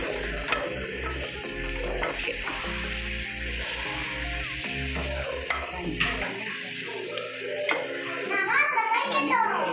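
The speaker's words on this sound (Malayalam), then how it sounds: "നന്നായിട്ടത് ഇളക്കി യോജിപ്പിക്കാം മൊത്തം മിക്സ് ചെയ്യണം" Wild lemon and dates stirred and mixed in oil in a pan, an ongoing sizzle with scraping spoon strokes, and faint children's voices in the background.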